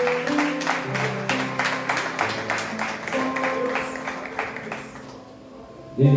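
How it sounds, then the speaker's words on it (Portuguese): A church congregation claps in a steady, rhythmic beat under low tonal background sound and chatter, and the clapping thins out toward the end. "Vamos aplaudir em nome do Senhor Jesus com bastante alegria"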